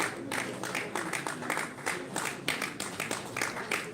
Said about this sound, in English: Please let us welcome him, applaud him.